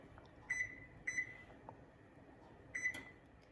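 Three short, crisp electronic beeps from an oven control panel as it is set to 300 degrees for baking granola, spaced out over a few seconds against a quiet kitchen background.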